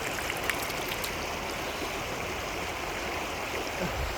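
River water rushes in a steady, even wash, like a stream running over rocks, with no voices.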